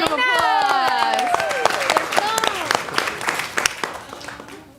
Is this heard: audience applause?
yes